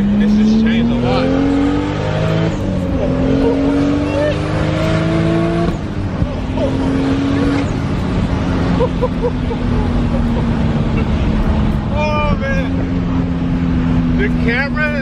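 A 600 hp Toyota Supra heard from inside on a ride through town, its engine loud and continuous as it climbs through gears with rising revs and shifts, while passengers talk over it.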